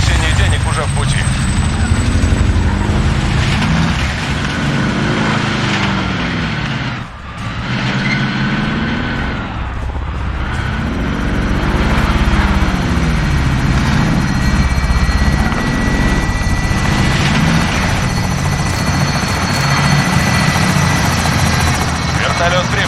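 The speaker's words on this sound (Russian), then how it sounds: "Вертолет прибыл. Готов забрать цель." A helicopter arrives in the video game Call of Duty: Warzone, its rotor thump loud and continuous, briefly dipping before swelling back up.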